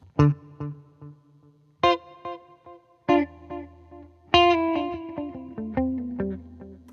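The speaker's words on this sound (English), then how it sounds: "But you can hear that delay." Plucked electric guitar notes through a delay pedal ring out, each followed by trailing repeats that fade away, with a final flurry of notes echoing behind.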